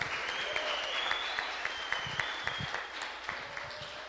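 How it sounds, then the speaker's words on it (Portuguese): Dense, steady applause from an audience at a church youth panel event, filling the whole stretch with continuous clapping at an even level and no talk over it. "Salva de palmas."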